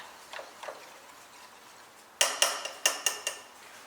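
Beaten eggs are whisked in a bowl for a Chinese rolled dish, first with a few soft taps, then a quick series of about six sharp, bright clinks of whisk against bowl, close and with no talking.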